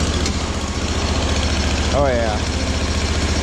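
A small two-cylinder engine runs at a steady idle with a low, even drone and faint vibration, close by, while someone briefly speaks over it.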